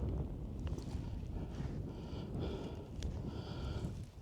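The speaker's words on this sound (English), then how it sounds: "Wind seems to pick up every now and again, but it's not too bad." Wind gusting across an open hillside on a Scottish hill climb near the cliffs of An Sidhean, a steady rough roar buffeting the microphone that swells and eases without pause.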